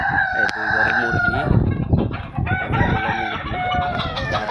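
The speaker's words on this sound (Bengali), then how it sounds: "এই দুই ঘরে মুরগি" Chickens clucking and a rooster crowing inside a farm coop, several birds calling over one another in a dense, steady chorus with repeated crows rising above the clucks, close and fairly loud.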